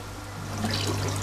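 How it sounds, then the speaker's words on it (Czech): Water flows steadily through the return pipe of a TP-8EO wastewater treatment plant built for eight people, a continuous close trickling rush with a low hum beneath it. "tak, aby přečerpávací trubka přečerpávala vodu zhruba čtvrtinou svého průměru."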